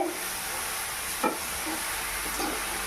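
A spatula stirs bottle gourd and shrimp with salt in a pan, giving a soft steady sizzle with a few faint scraping strokes. Quiet and close, with no voices.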